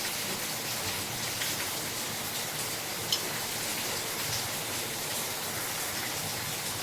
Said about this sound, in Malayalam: പുറത്ത് നല്ല മഴ പെയ്യുന്നുണ്ട് നല്ല പെരും മഴയാണ്